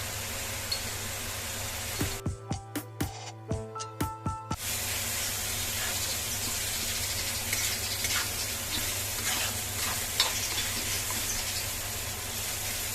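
Onion-tomato masala with salt, turmeric and red chili powder sautéed in a hot pan, giving a loud continuous sizzle and hiss for the whole stretch, with a brief burst of sharp clinking taps partway through.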